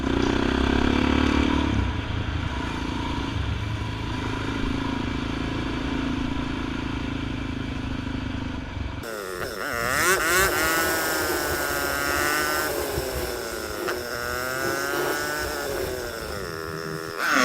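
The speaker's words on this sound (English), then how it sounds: "I particularly love the two-stroke sound effects." Two-stroke dual sport motorcycle engine on a woodland trail loop near Pollock Pines, a close buzzing drone that rises and falls with throttle changes and revs, continuous throughout.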